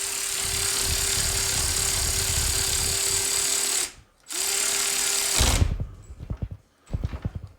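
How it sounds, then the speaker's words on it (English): Rapid, steady mechanical clatter from a cheap ratchet cranking down a bolt, running for several seconds with a steady tone, a brief pause, then short choppy bursts of clicking. "give it a little bit of a crank down with this ratchet"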